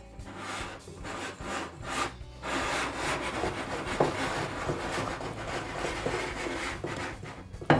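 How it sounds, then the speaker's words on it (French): Pastry dough with flour and pistachio powder being mixed, giving repeated rough rubbing and scraping strokes in an uneven rhythm, close and moderately loud, with no voices. "Je mélange l'ensemble"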